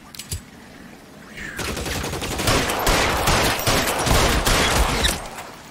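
Rapid gunfire from the L.A. Noire video game, a loud sustained barrage of overlapping shots and bursts that builds after a few scattered early pops and rattles on for several seconds.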